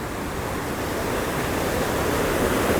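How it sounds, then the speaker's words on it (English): Rainwater stream rushing beneath a metal grid walkway, a steady, loud, broadband roar of flowing water that continues unbroken throughout, with no talk. "look at the amount of water that's coming down from those rains"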